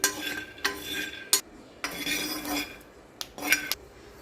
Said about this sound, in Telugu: ముందుగా ఒక ప్యాన్ తీసుకొని అందులో ఒకటొకటి సపరేట్ సపరేట్గా రోస్ట్ చేసుకోవాలి